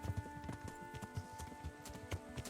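Steady, rhythmic clip-clop of horse hooves galloping in the medieval video game Kingdom Come: Deliverance, fairly quiet and even-paced with no talking.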